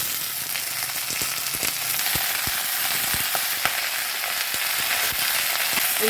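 Eggplant frying in a hot pan gives a steady, loud sizzle with faint crackles and pops throughout, no voices.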